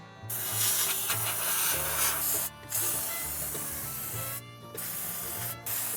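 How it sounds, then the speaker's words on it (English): A rust-proofing aerosol can sprays on a truck in long hissing bursts, with brief pauses between them, close by and fairly loud. "So let me spray and I'll show you what I did."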